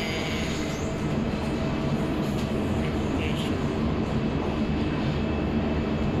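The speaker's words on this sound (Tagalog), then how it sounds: "still we are here in the green train" Steady rumbling ride inside a Riyadh Metro Green Line train, continuous wheel and motor noise filling the car at an even level with a few faint higher squeals overhead.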